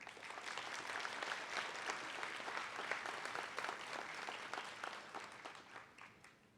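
An audience applauds to congratulate honorees at a college honors night. The clapping is dense and steady throughout and thins slightly toward the end.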